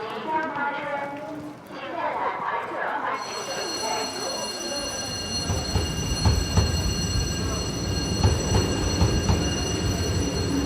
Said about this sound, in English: The train has an average speed of less than 40 kilometers per hour